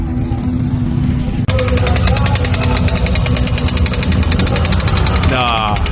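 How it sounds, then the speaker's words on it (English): A small two-stroke engine on a unicycle buzzes steadily and loudly with a rapid pulsing rattle, running continuously over background chatter and music. "Is that a two-stroke unicycle?"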